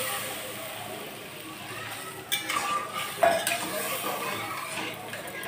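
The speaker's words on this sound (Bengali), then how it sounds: "এইবার আমি এর মধ্যে জলটা দিয়ে দিচ্ছি।" Water is poured into frying masala in a pot for a koi fish curry with potato and drumstick, followed by close scraping stirs and clinks of a utensil against the pot.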